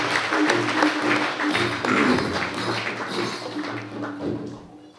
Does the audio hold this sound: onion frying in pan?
no